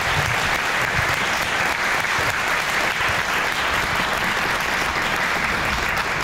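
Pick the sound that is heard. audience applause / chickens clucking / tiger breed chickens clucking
audience applause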